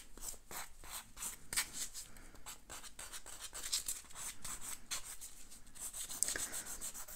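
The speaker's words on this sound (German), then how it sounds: "Bei solchen Designs dann mit wenig Druck einfach nur drüber fliegen mit der Feile." A nail file strokes lightly over a gel nail design with opal gemstone effect, a close series of soft, quick rasping scrapes in an uneven rhythm, with no talk.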